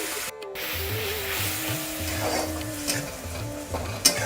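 Potatoes sauté with spices and a splash of water in a pan, a soft sizzle running beneath rhythmic, close scraping strokes of a spoon stirring them around.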